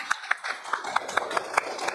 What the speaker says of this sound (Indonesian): tepuk tangan tuh Yusuf, betul